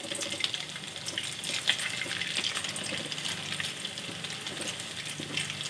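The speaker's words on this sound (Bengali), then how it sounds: "হালকা হিটে এভাবে ভেজে নিতে হবে।" Rice for Bengali-style zarda pulao frying over low heat, a steady soft sizzle with faint scraping and stirring running throughout, close and even in level.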